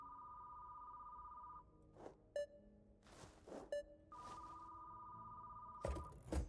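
A telephone rings in electronic tones, a sustained tone broken by short beeping bursts, then the tone sounding again, fairly clear with no speech over it.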